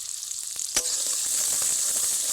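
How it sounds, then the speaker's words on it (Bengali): Chopped onion and garlic sizzle steadily in hot refined white oil in a kadai, a continuous bright frying hiss with a brief sharp clink of stirring early on, close and alone. "কড়াইতে দিয়ে দেবো সাদা তেল পেঁয়াজ কুচি রসুন কুচি একসঙ্গে দিয়ে দেবো"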